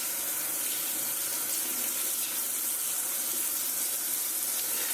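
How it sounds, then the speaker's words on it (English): Cold tap water runs steadily over trout fillets in a sink, a continuous bright hiss and splash at moderate, even level with no talking. "So let me rinse these under some cold water here."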